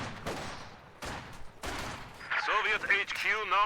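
Gunfire from the Company of Heroes 2 strategy game during a tournament match, with Volksgrenadier infantry firing at conscripts; several sharp shot bursts crackle under a commentator's voice.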